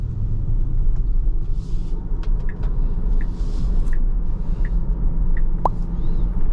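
A Tesla Model Y Performance on the road, with a steady low cabin rumble throughout, soft regular ticking and a brief high chirp near the end; no talking.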